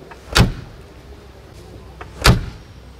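Two solid car door thunks about two seconds apart from a classic Mercedes-Benz Ponton, close and loud, with quiet mechanical clicks in between.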